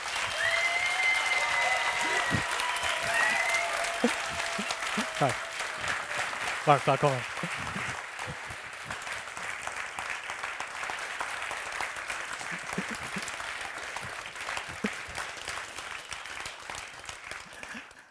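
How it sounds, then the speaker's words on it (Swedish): Audience applause rings out steadily at a live political debate event welcoming a debater to the stage, with a brief spoken greeting from the host early on over the clapping. "det var nog jämn sport där med applåderna"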